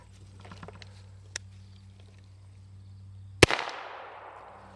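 A single sharp gunshot cracks out near the end after quiet outdoor rustling in dirt and sand, followed by a brief ringing decay and no follow-up shot, as a failure to feed malfunction interrupts firing.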